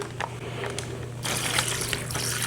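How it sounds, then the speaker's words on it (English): Mount Olive kosher pickle juice pours steadily into a container of wings, a continuous liquid splash that thickens and grows louder partway through. "Just pour the pickle juice in there."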